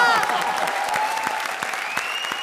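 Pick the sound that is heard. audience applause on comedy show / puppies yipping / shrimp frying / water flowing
audience applause on comedy show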